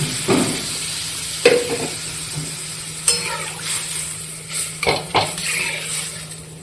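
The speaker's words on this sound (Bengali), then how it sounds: "এদিকে ডালটা ছুকে দেবো তো সম্বরা পেঁয়াজ দিয়ে দিয়েছি" Masoor dal is stirred in a pan where onions are frying for the tempering, with a steady sizzle beneath several sharp spoon scrapes and clinks against the metal, heard close and without talk.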